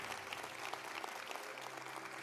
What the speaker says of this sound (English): let's give all of our nominees in the technical nominations a big round of applause